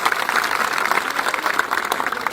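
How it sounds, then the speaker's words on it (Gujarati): A crowd of young people at a community gathering claps steadily, a dense continuous patter of applause filling the whole stretch. "એમને જોરદાર તાળીઓના ગડગડાટથી વધાવો"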